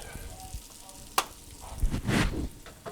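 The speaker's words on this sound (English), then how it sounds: "it looks like the onions are pretty well caramelized, so it's time to take them off the heat" Onions caramelize in a pan with a quiet, steady sizzle, broken by a few scraping stirs and brief louder bursts of frying near the end.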